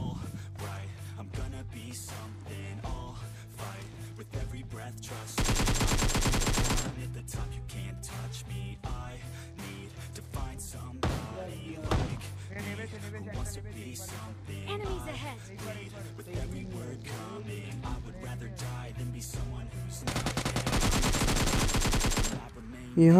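AKM rifle fire in the PUBG Mobile game, rapid automatic bursts with dense sharp shots, including two sustained volleys, over ongoing game ambience and a talking voice.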